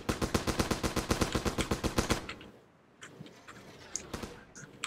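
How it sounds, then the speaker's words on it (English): Rapid heavy bursts of .50 cal machine gun fire in a video game hammer out loud and evenly for about two seconds, then give way to scattered quieter shots and clanks. "We got a bunch of 50 cals going"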